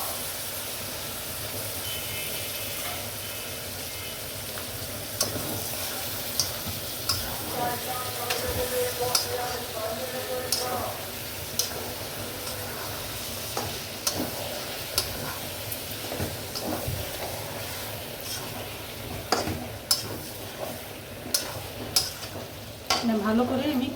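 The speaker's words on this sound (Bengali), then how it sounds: "মশলা কষানো হয়ে গেছে, আমি এখন কলিজাটা দিয়ে দিব।" Beef liver sizzles and fries in a pan of cooked-down spice paste for a Bangladeshi-style liver curry, stirred now and then with soft scraping clatter over a steady crackle, close and moderately loud.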